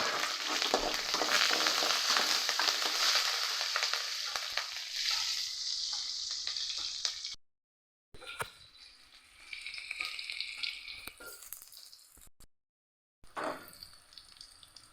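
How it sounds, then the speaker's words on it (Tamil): Fennel, mustard seeds, curry leaves and onion crackle and sizzle loudly in hot oil, the frying hiss fading somewhat and then cut by two short silent gaps, with no talking. "கடுகு வச்சு சிக்கன் கருவேப்பிலை வெங்காயம் போட்டுக்கோம்"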